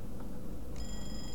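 A telephone ringing in the Roblox game Pokemon Brick Bronze, a steady electronic ring tone that starts partway through and holds alone over a low background hum.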